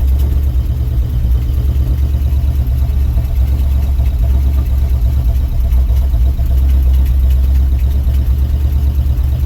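A 1967 International 4x4 truck engine running steadily at high idle, a loud, even, close rumble with a faint clatter that holds for the whole stretch without speech.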